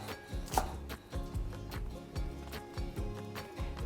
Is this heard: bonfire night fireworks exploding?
no